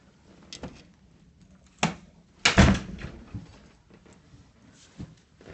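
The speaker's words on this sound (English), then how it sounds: "Close the door." An office door swings shut with a sharp thud and rattle, preceded by a few lighter knocks and shuffles in a quiet room, then faint scattered taps afterward.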